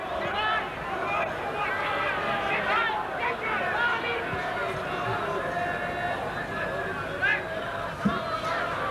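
A Leeds rugby league crowd reacts to injured winger John Bentley with a continuous, fairly distant roar of chanting and babble, under a commentator's voice.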